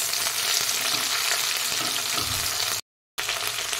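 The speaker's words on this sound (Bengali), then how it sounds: "আদা বাটা দিয়ে এটা খানিকক্ষণ আমি কষিয়ে নেব" Broccoli with ginger paste frying in a pan gives a steady, fairly loud sizzle with soft scraping as it is stirred, cut by a brief gap of silence near the end.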